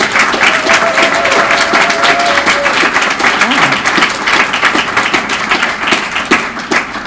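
A conference audience applauds, a dense sustained wash of clapping from a large crowd, loud and steady for several seconds with a faint voice briefly audible beneath it.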